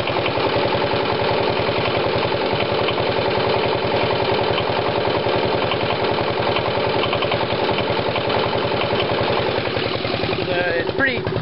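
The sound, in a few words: Coventry Victor engine idling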